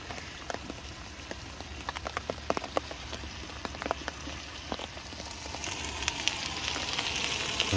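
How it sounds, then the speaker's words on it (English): Pork steak and sautéed potatoes frying on a camping stove at a wild camp: steady close sizzle with crackling spits throughout, growing slightly louder toward the end, with no talking. "Right, we're still on the food cooking."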